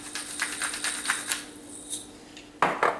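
A vegan stuffed-tomato filling dressed with olive oil, salt and pepper is lightly stirred in a bowl: a quick series of light clinks and scrapes, then a couple of louder knocks near the end, close and without talk.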